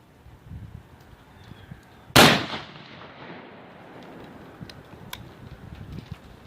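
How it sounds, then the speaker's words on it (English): A single loud, sharp blast from a CVA Wolf muzzleloader rifle fired outdoors, followed by a short rolling echo that fades into quiet ambient background. "And here's the last shot."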